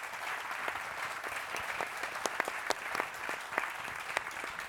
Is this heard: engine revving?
no